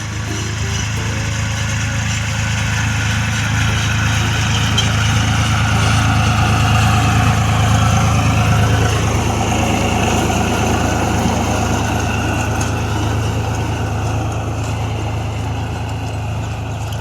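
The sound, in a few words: tractor engine idling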